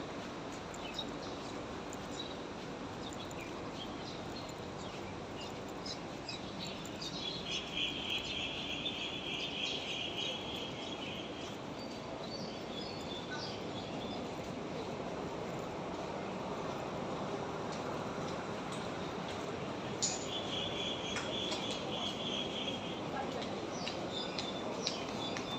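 Many birds chirp outdoors in thin, high bursts that come and go against a broad, steady hiss of background noise, fairly distant and faint, with no one talking.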